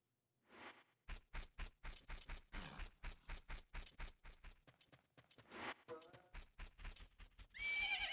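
A horse in The Legend of Zelda: Majora's Mask whinnies twice. A steady clip-clop of hooves runs between the neighs, ending in a louder burst of noise.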